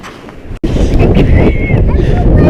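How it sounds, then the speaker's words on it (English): Strong blizzard wind roars and buffets the microphone in loud, continuous gusts outdoors in snow, with one brief dropout near the start. "It's a little windy over here."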